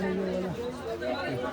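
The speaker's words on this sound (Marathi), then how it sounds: "आणि आता गर्दी व्हायला लागली." Crowd chatter in a busy lane in Varanasi, many overlapping voices murmuring close by in a dense, continuous hubbub.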